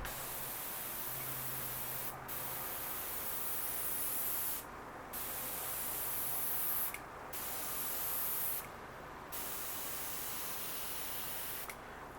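Airbrush spraying paint in steady hissing bursts, broken by several short pauses between passes, close and fairly quiet with no talking.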